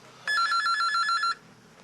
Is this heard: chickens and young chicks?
no